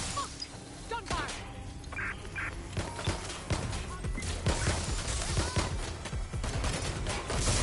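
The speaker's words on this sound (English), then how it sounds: "Gunfire!" Rapid bursts of gunfire in the video game Watch Dogs: Legion crackle through a busy, noisy mix, with a voice shouting briefly near the start; loud and fairly close.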